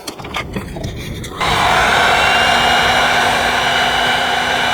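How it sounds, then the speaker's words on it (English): A heat gun blowing hot air to shrink heat shrink tubing on a fuel injector wiring kit, switching on after a second of handling noise into a loud, steady, close whooshing roar that continues unbroken. "Grab the heat gun real quick"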